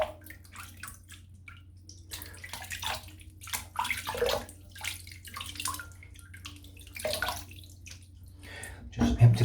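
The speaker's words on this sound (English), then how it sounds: "Just empty the sink out" Water gurgles and trickles out of a bathroom sink after a shave as it drains, with irregular splashes and bubbling that swell louder near the end.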